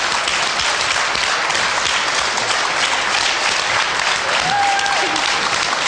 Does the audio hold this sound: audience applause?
yes